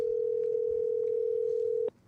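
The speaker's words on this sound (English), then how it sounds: "his phone is ringing" A steady outgoing-call ringback tone on a phone line, one long unbroken tone that cuts off abruptly near the end, leaving quiet line hiss.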